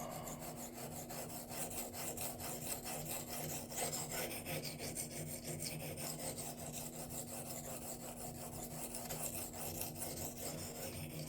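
A blade is rubbed back and forth across a cheap Chinese 400/800-grit whetstone in quick, even rasping strokes, close but quiet, continuing steadily throughout.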